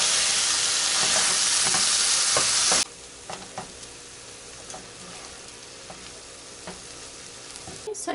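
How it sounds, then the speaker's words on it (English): Ground meat browning in a pan with garlic, a loud steady sizzle for the first few seconds, then dropping to quieter crackling with scattered spatula scrapes and stirs. "Just gonna brown my meat up."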